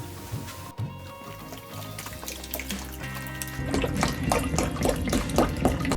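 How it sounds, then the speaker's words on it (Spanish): Water pours into a bucket for mixing casting plaster, starting as a faint trickle, then swelling into a steady, closer splashing fill that builds louder toward the end. "Lo primero que se hace es llenar la cubeta de agua hasta donde quieras"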